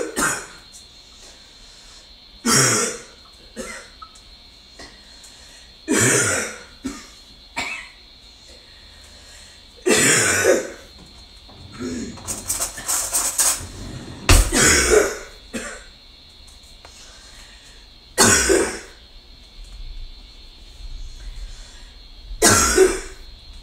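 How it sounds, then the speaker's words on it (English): Repeated harsh coughs and throat clearing, close by, coming in bursts every few seconds with quiet gaps, one longer fit in the middle. "that's what happens when I cough."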